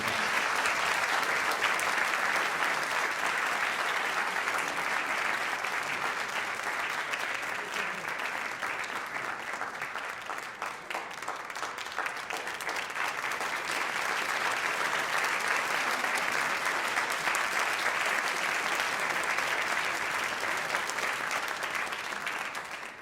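An audience at a debate on a path to citizenship for undocumented immigrants applauds in a long, dense, steady wave of clapping that fills the room, loud and sustained throughout.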